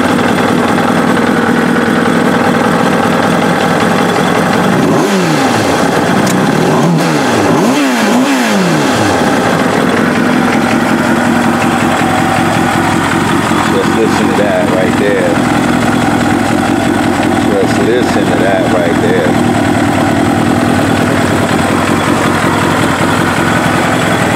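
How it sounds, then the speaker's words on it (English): A Kawasaki ZX7R motorcycle engine cranks and fires up around the five-second mark, revs briefly, then settles into a loud, steady idle close by. "Let's start it up and see how she sounds."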